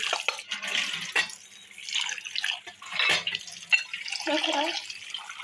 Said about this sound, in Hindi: अब ये पानी फेंक दूँगी, दोबारा साफ पानी डालूँगी।